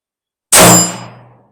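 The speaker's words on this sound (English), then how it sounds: "5 rounds on steel. Here we go." A single sharp metallic clang rings out as a 22 WMR round fired from an AMT Auto Mag II strikes a steel target, a loud hit followed by a fading ring.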